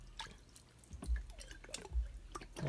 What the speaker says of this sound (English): I'll take it out, let it drain a little bit.